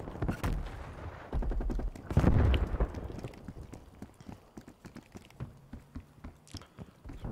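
Gunfire in Call of Duty Black Ops Cold War, with a burst of heavy shots early on and then a steady run of sharp, close reports that crack out in a quick irregular rhythm.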